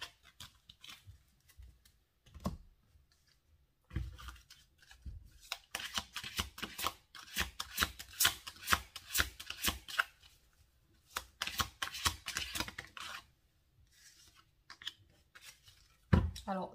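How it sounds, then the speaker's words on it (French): Tarot cards handled at close range, with bursts of rapid riffling and flicking as cards are shuffled and pulled aside, separated by quiet pauses. "Je vais enlever toutes ces cartes."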